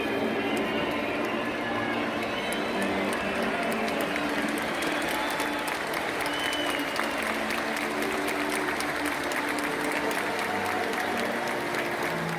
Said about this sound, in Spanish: Los aplausos del resto del estadio se encargaron de aplacar a los bulliciosos.